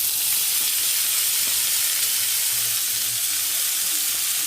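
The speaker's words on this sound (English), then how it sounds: "now we're going to go ahead and saute our onions and peppers" Onions and peppers sautéing in a pan for lo mein: a close, steady bright hiss of frying without pause, moderately loud and unaccompanied by talk.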